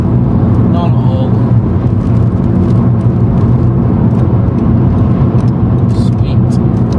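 A 1.2 TSI car with its backbox muffler deleted and a Cupra bumper, driving with a steady, droning exhaust and road rumble throughout, while people talk over it.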